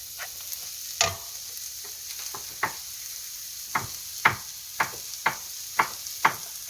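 Pumpkin and onions stirred in a pot for Korean soft tofu stew: a soft frying hiss under a series of about ten distinct spoon scrapes and knocks against the pot, spaced irregularly, close and moderately loud.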